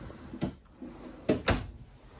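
Several deep drawers in a camper trailer slide and bump shut in a quiet room, a few separate knocks and thuds with short pauses between them.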